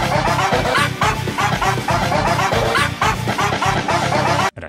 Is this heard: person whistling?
no